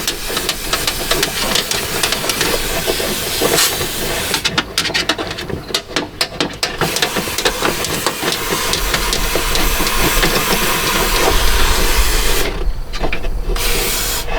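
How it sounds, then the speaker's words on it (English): Fluid Film undercoating sprayed from an aerosol wand into a vehicle's rocker panel, a loud continuous hiss that runs steadily for a long stretch, cutting out briefly a couple of times before resuming. "you can hear it spraying right down there in that rocker"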